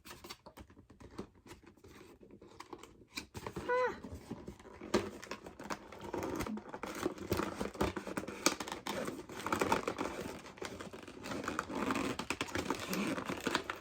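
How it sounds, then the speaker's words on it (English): A cardboard shipping box holding tan drops is torn open by hand, with a steady stretch of crinkling, scraping and ripping of cardboard and packing material up close, broken by brief pauses. "I might have to rip the box."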